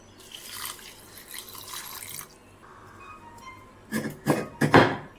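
Water poured into a pot of jaggery for dissolving it while making urad dal payasam, a soft trickling splash early on, then a few louder close pours and drips near the end.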